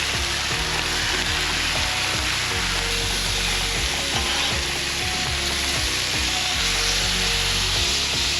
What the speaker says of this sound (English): What you cooking up for us there? Bacon, thick cut. Hickory smoked bacon.